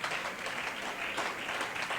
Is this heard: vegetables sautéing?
no